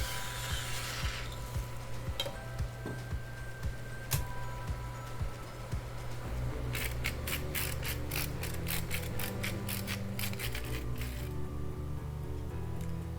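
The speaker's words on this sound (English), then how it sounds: "add some fresh ground pepper" A hand pepper grinder cracks fresh black peppercorns over a pan on medium-low heat, giving a run of quick, close ratcheting clicks that starts partway through and carries on steadily under a low kitchen hum.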